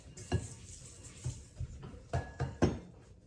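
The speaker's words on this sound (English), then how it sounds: "You stir it like this." A spoon stirs a pot with a child helping, producing several soft scraping knocks and clinks against the pot in an uneven rhythm, close and fairly quiet.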